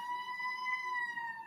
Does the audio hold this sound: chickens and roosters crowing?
no